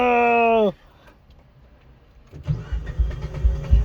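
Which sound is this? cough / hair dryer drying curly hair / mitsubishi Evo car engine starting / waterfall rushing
mitsubishi Evo car engine starting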